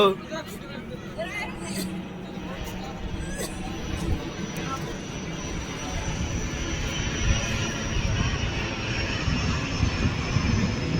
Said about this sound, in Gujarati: એરોપ્લેન એરોપ્લેન ગયું ગયું